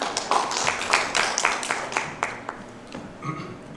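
A short burst of applause from a small audience, scattered claps fading out after a few seconds.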